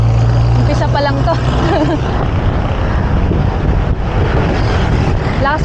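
Strong wind buffets the microphone on a cycling climb of the Pinugay Loop in the Philippines, a steady loud roar and rumble throughout, with faint bike noise mixed in.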